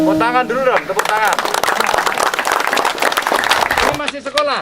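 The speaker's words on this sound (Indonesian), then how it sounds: "Tepuk tangan dulu dong, tepuk tangan." A group of schoolchildren at Candi Penataran temple breaks into a burst of clapping lasting a few seconds, with voices talking just before and after.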